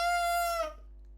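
A bassoon double reed made of two tied pieces of cane, blown alone, gives a bright buzzy squawk held steady for over half a second before cutting off, close and alone.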